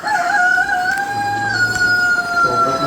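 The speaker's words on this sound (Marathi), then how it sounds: "कोंबडा पण ना आता तिकडे त्यांनी आत्ताच बांग दिले" A rooster crows at dawn on a farmhouse, a long drawn-out call that rises and holds for a couple of seconds, clear and fairly close against faint background noise.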